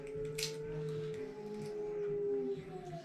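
A human voice imitating a werewolf howl, a long sustained wavering tone that slowly bends in pitch, heard close and fairly quiet without other talk.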